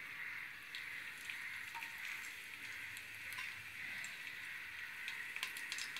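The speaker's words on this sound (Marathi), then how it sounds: "आता ही लसूण जरा परतूया." Crushed, skin-on garlic fries in about a tablespoon of hot oil for a Maharashtrian raw jackfruit bhaji, producing a faint, continuous sizzle with scattered light crackles.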